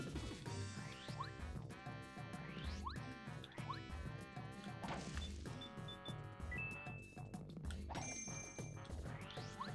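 Bright jingling bell chimes ring out repeatedly over busy, continuous background music in the Paper Mario video game.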